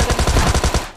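A single loud, fast burst of about eight gunshots from PUBG Lite gameplay, sharp and close, lasting around a second.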